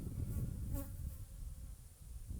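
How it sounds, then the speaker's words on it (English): Honey bees buzz in a savanna apiary, a faint, steady hum with one bee passing briefly close, under low rumbling background noise. "More bees"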